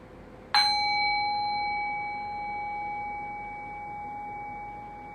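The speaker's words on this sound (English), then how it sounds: "So I'll ring the bell and I will guide us into silence." A meditation bell struck once, a sharp metallic strike blooming into a clear, pure sustained ring that slowly fades over several seconds, heard alone and close.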